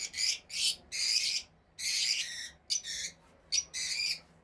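A caged pair of Fischer's lovebirds give a rapid series of about nine shrill, harsh screeching calls in short bursts, loud and close.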